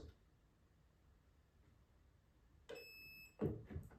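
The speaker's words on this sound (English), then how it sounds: "then you will hear it beeping from the Mosfet." After a quiet stretch, a short burst of high electronic beeps from the MOSFET of an LCT G3SG1 airsoft rifle as its battery is inserted, followed by a few soft clicks and handling knocks.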